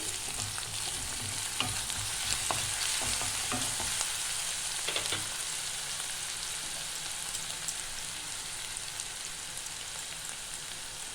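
Chopped onion and grated garlic frying in a pan for a dhaba-style egg tadka, giving a continuous close crackling sizzle with a few stirring scrapes early on.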